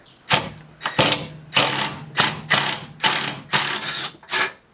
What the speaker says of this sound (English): I'm going to remove the two 12mm bolts that's back there.